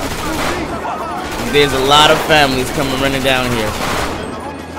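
Gunfire in the GTA 5 video game, with a game crew shooting as rival families come running, crackling in the background beneath continuous excited talking.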